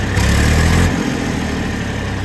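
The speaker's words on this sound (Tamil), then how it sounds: "இந்த டிராக்டர் பார்த்தீங்கன்னா ஈச்சரில் 551ங்க 2022 மாடலு." A 2022 Eicher 551 tractor with about 1050 running hours idles in a loud, steady diesel rumble close by, with a brief deeper surge in the first second before it settles back to an even idle.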